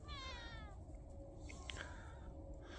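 Several cats meow at feeding time outdoors, a rising harmonic cry near the start followed by shorter, softer mews over steady low background rumble.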